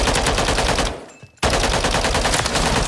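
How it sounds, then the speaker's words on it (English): Holger 556 rifle fire in a shooter game, rapid sustained automatic bursts, loud and close, with a brief pause before the firing resumes. "I was shooting at a dead body."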